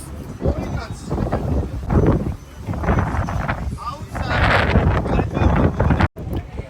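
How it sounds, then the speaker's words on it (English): Gusty wind buffets the microphone in loud rumbling surges, rising and falling over several seconds, in Tbilisi, Georgia. "It's so windy here"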